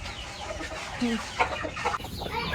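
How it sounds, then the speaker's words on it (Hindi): Chickens cluck on a rooftop after rain, with small chicks among them; soft, close clucks and a few brief chirps sound over a steady background hum. "ये देखें ये चूजे छोटे छोटे"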